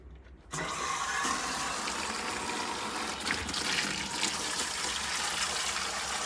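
Water gushes steadily from an opened heating system connection into a bucket, a continuous close splashing pour that starts abruptly and runs on without a break.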